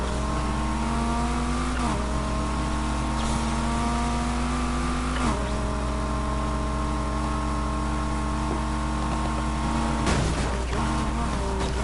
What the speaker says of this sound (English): I put a Dodge Viper engine in my vehicle